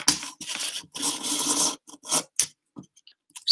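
Paper or card being cut out by hand with scissors, a few close bursts of scraping snips and rustling separated by short pauses, no voices.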